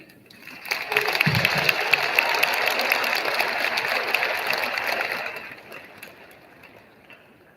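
Audience applause at the 2022 Spain Park Finley Awards ceremony, a sustained round of clapping that swells in after a second, holds steady and loud, then fades out near the end.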